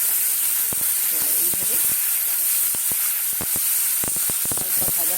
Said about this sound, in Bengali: এইবারে দেবো চিংড়ি মাছ, ওই তেলের মধ্যে ভেজে তুলে নেবো, হালকা ভাজবো